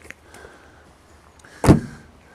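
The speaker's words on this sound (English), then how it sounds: "Always a good door shut on these." The door of a Rover P5B, a classic saloon car, shuts with a single solid, deep thud, close and loud, following a few faint clicks and light handling noises.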